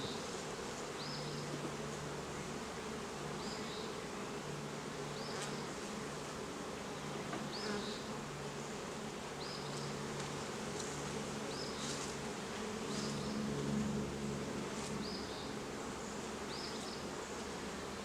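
Steady, dense buzzing of many honey bees filling the whole stretch, close and continuous, with a few brief higher clicks scattered through.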